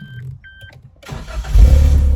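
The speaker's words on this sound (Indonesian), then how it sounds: "dia sudah di upgrade knalpotnya. Nah menjadi knalpot racing gitu ya suaranya." Two short electronic beeps come first from a 2019 Suzuki Jimny JB4 1.5 manual with a push-button start. Then the engine cranks and fires, and its upgraded racing exhaust rises into a loud, deep, rumbling idle close by.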